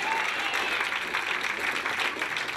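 Scattered audience clapping at a stand-up comedy show, a steady patter of many hands heard fairly faintly for a couple of seconds with no talking over it.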